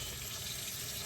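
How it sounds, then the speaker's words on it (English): Tap water running steadily into a pan of drained jackfruit, a continuous broadband rush filling the kitchen sink area, close and fairly quiet, with no talking. "So I just filled it up with water"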